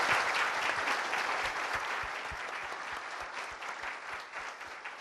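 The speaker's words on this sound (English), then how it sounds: "how about a round of applause for our great panel?" Sustained audience applause for a panel discussion on job selection, steady and fairly loud throughout, slowly easing in intensity toward the close.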